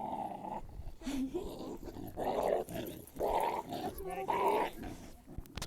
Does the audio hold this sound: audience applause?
no